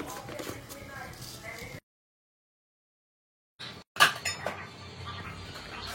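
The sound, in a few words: putting away dried kitchen utensils while tea boils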